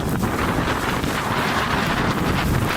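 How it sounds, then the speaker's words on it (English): A strong gust of wind at a paraglider launch site buffets the microphone, a loud continuous roar of rushing air that lasts the whole moment. "suddenly a gust of wind lifted him off the ground"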